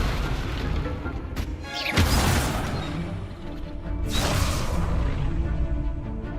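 Levioso spell cast mid-combat in Hogwarts Legacy, a whooshing magical burst with a booming impact, followed by a second swelling blast amid dense, loud battle noise.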